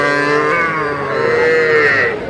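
Cattle at a livestock market in Dhaka, a small bull or heifer giving one long, loud, close moo that wavers in pitch and fills the whole moment.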